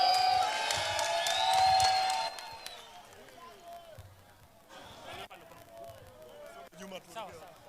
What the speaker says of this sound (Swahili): makofi